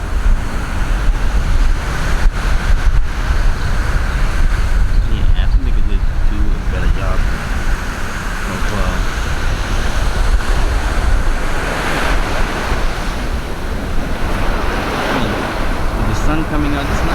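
Surf rolls steadily onto the sand at Bavaro beach in Punta Cana, a continuous broad wash of waves with gusty wind buffeting the microphone, and people talk faintly underneath throughout.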